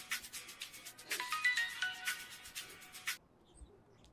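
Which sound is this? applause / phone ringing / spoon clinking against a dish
phone ringing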